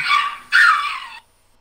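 A dog gives two sharp, close barks in quick succession, the second louder and slightly drawn out, then silence.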